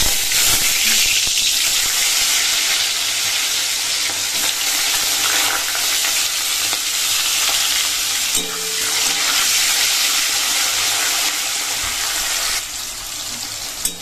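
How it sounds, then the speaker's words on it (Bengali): Potatoes fry in oil in a wok with a steady, close, continuous sizzle that holds at an even loudness for the whole stretch, with no one talking. "কড়াইয়ে তেল দিয়ে দিয়েছি। তো প্রথমে আলুটা ভেজে নেব।"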